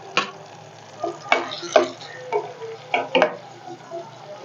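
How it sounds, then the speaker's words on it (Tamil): Onions frying until golden with curry leaves for a tomato and yogurt sambal: a spatula stirs and clinks in a rhythm of sharp taps over a light sizzle, close and moderately loud. "வெங்காயத்தை நல்ல பொன்னிறமா பொரிச்சு எடுக்கணும்."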